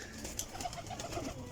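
Short, rolling coos from a golden Jaunsira pigeon sit close and clear, a quick series of soft low pulses over faint ambient noise.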